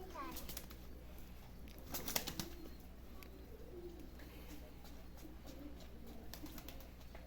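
Çorum Alaca tumbler pigeons, clean-legged Central Anatolian game birds, coo faintly against a steady low hum, with a brief louder stir around the middle.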